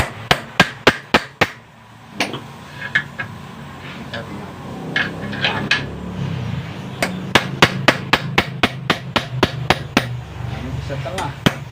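Sharp metallic hammer blows on a Honda Supra X 125 motorcycle front fork shock ring out in a quick run of five, then a pause with someone talking, followed by a long, steady series of strikes.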